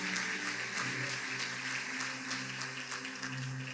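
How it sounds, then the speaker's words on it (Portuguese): A church congregation applauds steadily and loudly for several seconds, a dense wash of many hands clapping that fills the room without pause. "Dê um forte aplauso ao Senhor"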